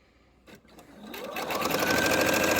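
A sewing machine stitches fabric seams on mini flags, starting after a few faint handling sounds and building into a steady, rapid mechanical whir that runs to the end.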